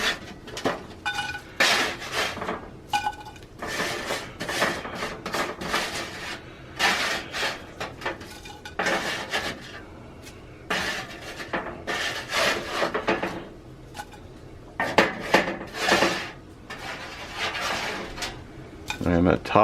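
Cooked potato wedges dished out of a cast iron pan, with scraping, utensil clinks and wooden knocks in irregular bursts close by, while a person talks intermittently.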